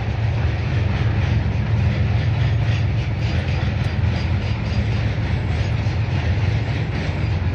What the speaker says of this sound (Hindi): यहाँ पर ट्रेन भी जाने लगा